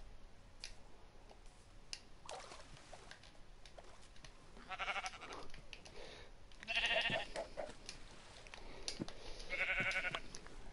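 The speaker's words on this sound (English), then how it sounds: "Yes, another sheep, let's go." Sheep in Minecraft on PlayStation 4 give a few faint, short bleats spread over several seconds amid quiet game background sounds.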